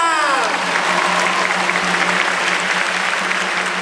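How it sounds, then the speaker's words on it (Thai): Audience applause fills a university freshman welcome recreation session in Ubon, Thailand: a dense, steady wash of many hands clapping at once, loud and close throughout with no talk over it. "ถ้าโอเคขอเสียงปรบมือหน่อยค่ะ"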